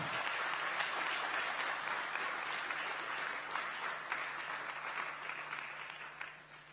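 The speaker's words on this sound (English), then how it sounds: "Please, let's give him another round of applause." A conference crowd at the Africa Bitcoin Conference applauds steadily, a broad wash of clapping that fades slightly toward the end, heard from some distance with a faint hum beneath.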